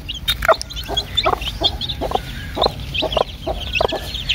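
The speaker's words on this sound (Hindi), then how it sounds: "ये छोटे चूजे हैं।" Small chicks and a hen cluck and peep in short repeated calls, close and clear, with no talk.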